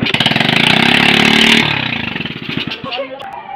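A freshly overhauled Suzuki Raider J 110 motorcycle engine fires up close by, giving a loud, rapid, buzzy rev that holds steady before easing back into an uneven, pulsing idle.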